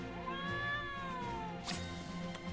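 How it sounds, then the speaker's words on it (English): A cat in the game Trials of Mana gives a single drawn-out meow that rises and then falls, close and clear over soft game music, followed by a short rustling burst. "There's a cat."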